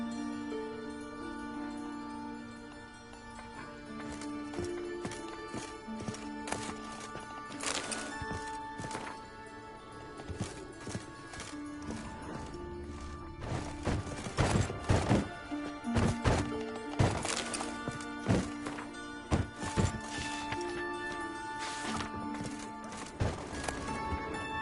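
A horse's hooves clop steadily in The Witcher 3: Wild Hunt, a rhythmic run of hoof strikes over sustained background music that grows busier and louder toward the end.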